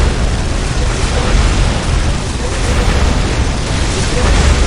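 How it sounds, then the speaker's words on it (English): Rolling battle explosions from a Warhammer 40,000 Dawn of War Unification mod fight against Steel Legion, a dense continuous roar of blasts and rumble filling the whole clip at high level with no clear gaps. "Steel Legion has a lot of explosions"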